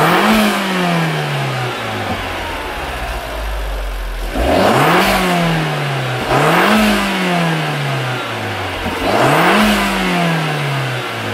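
An Alfa Romeo MiTo with a 120 hp turbo petrol engine and a Malossi air filter revs hard and close up, with repeated rising-then-falling throttle blips over a steady idle and a sharp intake whoosh on each rev.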